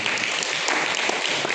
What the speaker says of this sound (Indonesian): Tepuk tangan Tuhan.